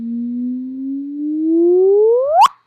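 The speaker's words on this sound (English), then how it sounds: "what you hear is the actual gravitational wave signal" A gravitational wave signal rendered as sound: a single pure tone that slowly rises in pitch, then sweeps sharply upward and ends abruptly, loud and alone.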